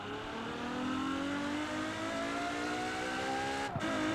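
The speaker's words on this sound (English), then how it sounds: "today we're taking a look at the Ferrari FXX. I don't know what to feel about this engine sound." A Ferrari FXX engine in Forza Horizon 4 climbs steadily in pitch as it accelerates, a smooth harmonic whine held close and loud, with a brief gear-shift dip near the end.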